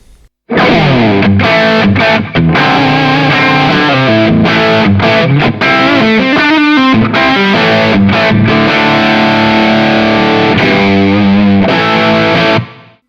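Electric guitar played through an overdrive pedal with a booster in front, a sustained run of gritty, distorted chords and notes, loud and continuous with no talking.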